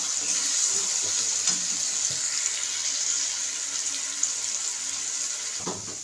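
Onion and garlic fry in a pan, a bright, continuous hiss of sizzling oil with occasional stirring knocks, steady and fairly close.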